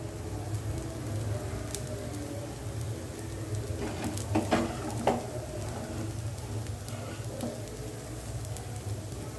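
A crispy dosa roasting on a hot pan over a flame, giving a steady, soft sizzle and crackle throughout with a few sharper pops near the middle, no talk.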